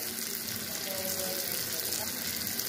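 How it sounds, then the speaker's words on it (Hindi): Water is poured into fish masala cooking on a stove, giving a steady, broadband hiss of liquid and sizzling that holds evenly throughout. "अब तो इसमें पानी ऐड करने वाली हूँ।"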